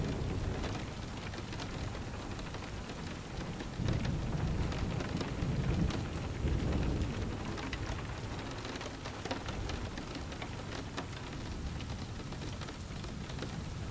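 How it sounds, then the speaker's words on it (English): Steady, dense rain falls on outdoor surfaces during a thunderstorm, a continuous close hiss that swells with a deeper rumble around the middle before settling back to an even downpour. "the white noise of the rain clears the air"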